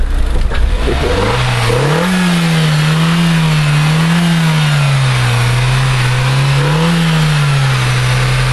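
A Renault Megane 3 RS accelerates on a track at Lohéac. The loud engine note rises in pitch, then wavers up and down as the revs swell and ease over steady road and wind noise.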